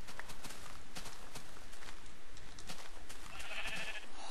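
A Minecraft sheep gives a short bleat near the end, over a dense hiss of game noise and footstep-like clatter.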